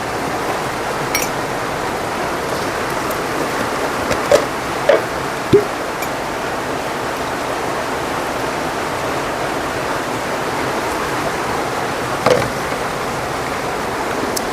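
Steady rain falls as a dense, even hiss with no pauses, and a few faint clicks and taps come through now and then.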